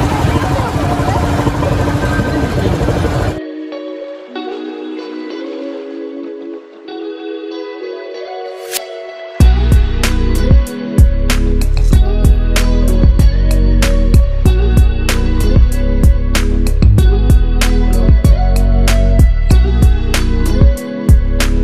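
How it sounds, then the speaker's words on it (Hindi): A running motorbike engine in a village setting sounds close and loud as a steady low rumble with repeated sharp ticks, after a stretch of louder mixed sound, and a voice speaks over it. "बाइक भी स्टार्ट है तो आवाज़ कर रहा हूँ इसके लिए सॉरी है"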